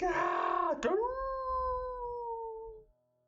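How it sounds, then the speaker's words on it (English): A drawn-out moaning howl rises, then holds and slowly fades over about three seconds, fairly clear and alone, set in a dark fantasy town within the Warhammer game Shadows over Sylvania. "the scream is followed by a moaning howl"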